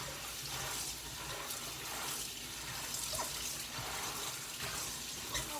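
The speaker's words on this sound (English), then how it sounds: "this is just a second bag of greens, and I'll just rinse it off." A bag of greens is rinsed under a running kitchen sink tap, giving a steady, close rush of water that splashes and shifts slightly as the leaves are moved through the stream.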